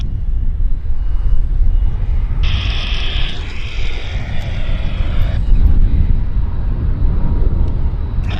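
Boeing 767 airliner arriving from Frankfurt at Vancouver airport, a loud steady low engine roar with a brief higher whine partway through, heard from the ground.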